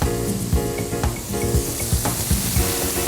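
Chicken pieces frying in butter with a little salt in a pan, a steady close sizzle with bursts of crackle and a few clinks and knocks from stirring, and no talk.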